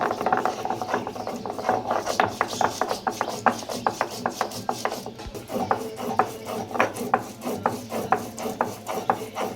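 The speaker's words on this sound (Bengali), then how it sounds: "এবার আমি আদা আর জিরেটাও বেটে নেব" Ginger and cumin ground into a paste by hand, likely on a stone, making a steady run of rough rasping rubs with a repeated back-and-forth rhythm, close and moderately loud with no talk.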